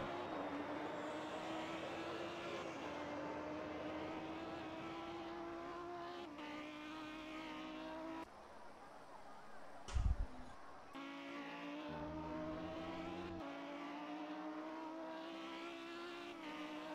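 Audi race car engine in the Project Cars racing game at Imola, a steady high-pitched drone that shifts pitch with revs, dips briefly mid-way with a sharp thump, then resumes at full loudness.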